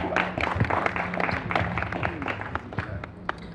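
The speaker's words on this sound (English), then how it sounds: "Ladies and gentlemen, how about a round of applause for Heather Behrens?" Crowd applause at a time capsule opening ceremony in Oxnard's Heritage Square, a steady dense patter of many hands clapping throughout with some voices mixed in beneath.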